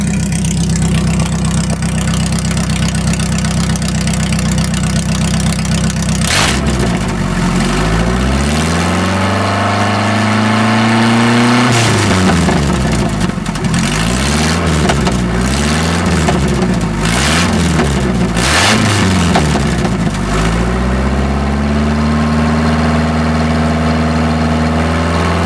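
A straight-piped Ford Ranger 2.3L engine, loud and close, idling with a rough low rumble, then revved repeatedly in rising and falling sweeps before settling back to idle; no talking over it.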